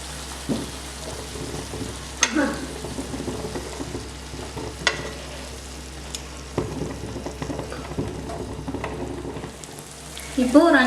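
Egg pepper fry cooks in a pan, a steady sizzle broken by scraping stirs and occasional clacks of a spatula, with faint voices near the end.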